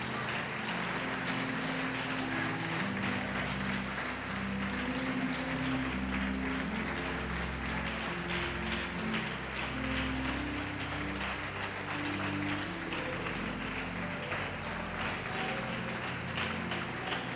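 A large church congregation applauds steadily and loudly throughout, with a dense wash of clapping and some sustained tones underneath.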